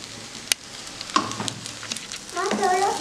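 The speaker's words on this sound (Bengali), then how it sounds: "দিয়ে এটাকে আমি আবার এইভাবে নাড়িয়ে নেব।" Fried cashews and raisins stirred in a pan with a spatula, giving a few scraping clinks and a soft sizzle that grows toward the end, close up with no talking.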